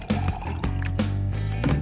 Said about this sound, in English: What do you think would happen if I filled this jar with water like this